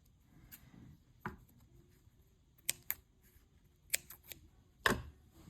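Scissors snip through a yarn tail on a small crochet key ring, a few crisp, close cuts spaced irregularly against a quiet background.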